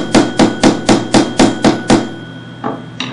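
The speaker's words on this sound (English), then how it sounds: "when I peen the brass, it would fill the divot" Eight quick, evenly spaced hammer blows peen a brass pin in a handmade wooden finger plane, sharp close metallic taps, followed by two lighter strikes after a short pause.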